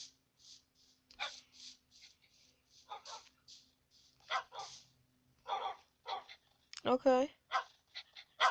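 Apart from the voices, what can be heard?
dogs barking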